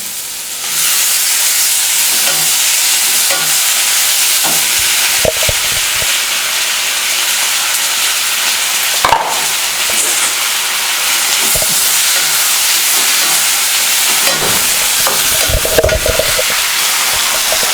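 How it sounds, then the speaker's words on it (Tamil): Onions and tomatoes sauté in an oily pan for a cauliflower gravy, producing a loud, constant steamy hiss with occasional soft stirring knocks and scrapes. "வெங்காயம் நல்லா வணங்கணுன்னா அதில் தக்காளி சேர்த்துங்க."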